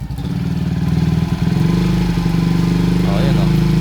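A motorcycle engine revs up from idle into a loud, throbbing, rising drone, with someone talking over it.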